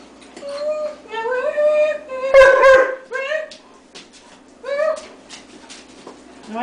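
A Weimaraner gives high, drawn-out whimpers and short yelps close by, rising and falling in several bursts.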